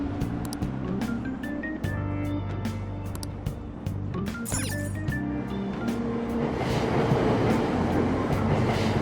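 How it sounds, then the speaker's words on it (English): A train in Persona 5 Royal rumbles at a station platform, with steady loud motor hum, sharp rhythmic clicks and a rising whoosh as it pulls away. No voice is heard. "Train doors are now closing. Please stand back."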